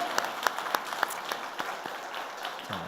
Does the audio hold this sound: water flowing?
no